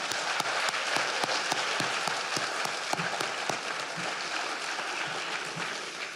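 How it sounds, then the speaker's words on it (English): Families applauding at a high school senior awards night, a dense steady wash of clapping with a few sharp individual claps standing out nearby. "Families, yes, round of applause."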